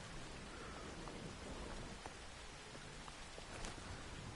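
Heavy rain in the game No Man's Sky, a constant broadband hiss with scattered droplet ticks and faint distant rumbles, with no voices present.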